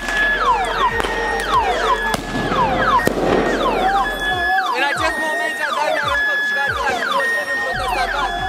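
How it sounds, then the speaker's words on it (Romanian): Protesters set off firecrackers, giving repeated sharp bangs close by and farther off, with whistling rising and falling tones and a crowd noise underneath. "Protestatarii ripostează cu petarde și pietre."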